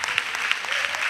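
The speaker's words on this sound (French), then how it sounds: "Acclamons les semeurs." Applause from a congregation at an annual missionaries' retreat in Côte d'Ivoire, a short dense burst of many hands clapping steadily at moderate volume with no talk over it.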